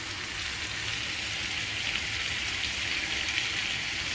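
Chicken and tomato fry in oil in a pan, making an even, continuous close sizzle with no pauses and no talk.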